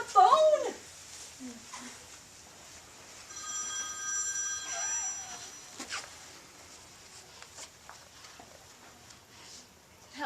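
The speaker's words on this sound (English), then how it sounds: "Answer the phone." A telephone rings with a metallic bell trill during a live stage reading, the ring sounding once in the middle, fairly quiet and short beneath people's voices.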